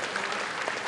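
Audience clapping during a live mental math show, a brief burst of dense, even applause from a crowd with no voices over it.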